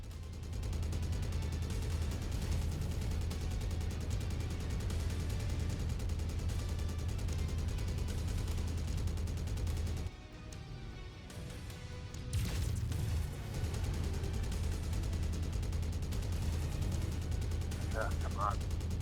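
Ammunition cooking off inside a mech in the MechWarrior 5 video game: a loud, dense barrage of gunfire and explosive crackle runs almost continuously, dips into a short lull, then erupts again in a sharp blast.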